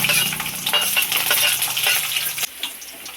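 Garlic sizzles loudly in hot oil with mustard seeds for a home fish curry, a dense crackling fry stirred with a few clinking scrapes before it suddenly drops away near the end.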